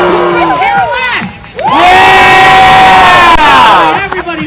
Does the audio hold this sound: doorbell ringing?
no